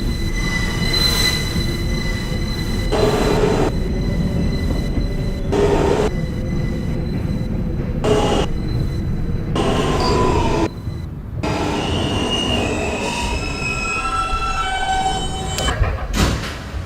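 Loud rumble of a Manhattan-bound F local subway train at the 169th Street station in New York, with wheel squeal, door chimes and clatter over a constant roar.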